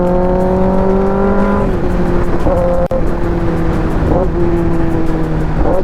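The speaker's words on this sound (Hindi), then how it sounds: "डाउन शिफ्टिंग सुना आपने?" A Kawasaki ZX10R motorcycle with an Arrow titanium full exhaust downshifting on the road; loud, close engine tones drop in steps several times, with constant wind and road noise.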